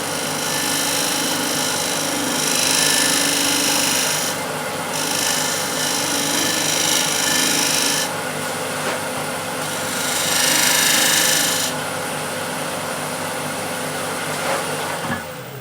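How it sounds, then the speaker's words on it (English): Shear scraper working the side of a turned wood disc flower vase on a lathe, a continuous rasping scrape with slight surges in intensity, close and steady throughout with no talk. "I can go with a shear scraper on this side."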